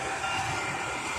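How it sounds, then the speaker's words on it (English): Light rail train pulling into a station in a busy street median downtown, a loud continuous rumble and rolling wheel noise close by. "Oh shit, there is my train."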